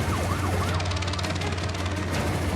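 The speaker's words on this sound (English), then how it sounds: "There's the siren, there's the siren." A wailing siren sweeps up and down at a wildlife capture boma over a constant low droning hum from an aircraft nearby, fading after the first second.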